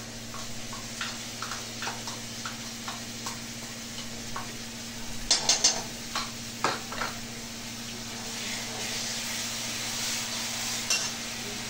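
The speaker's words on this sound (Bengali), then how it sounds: "এবারে এই মশলাটা দিয়ে দিচ্ছি" Spices frying in oil in a pan for a paneer and potato dish, with a steady low sizzle and scattered scrapes and taps of stirring, a few louder clatters midway, no talk.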